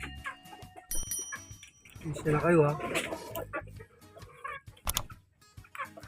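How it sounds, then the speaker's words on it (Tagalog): Backyard chickens cluck and squawk while being fed, scattered close calls with one louder burst of clucking, interrupted by a person speaking. "Papakain na tayo ng mga manok."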